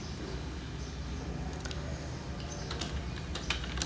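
Quick typing on a computer keyboard, close and fairly quiet, with clustered key clicks over a steady low background hum.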